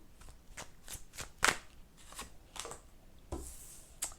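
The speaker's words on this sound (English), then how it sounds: "what I'm doing here is just pulling some cards on past energy." Tarot cards are shuffled and pulled by hand in a quiet room, a series of soft, close riffling and flicking snaps at irregular intervals, faint and without talking.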